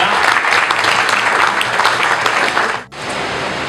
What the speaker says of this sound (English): I'd like a round of applause for Mick and the boys